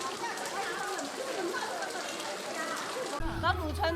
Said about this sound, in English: Suddenly, it starts to rain.